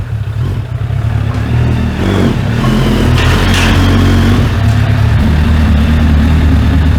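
A car engine revs hard during burnouts that feed a giant smoke-ring vortex cannon, loud and close, with surging roars, rattles and clatter building into a sustained high-revving drone.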